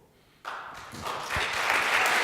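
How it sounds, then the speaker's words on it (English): Audience at a women's sports governance summit bursts into applause after a short quiet lead-in, the clapping growing fuller and denser toward the end. "That deserves a clap."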